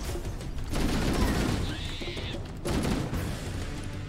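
Continuous gunfire in the Halo 1 video game, with dense, loud bursts of rapid shots that swell and surge across the whole stretch.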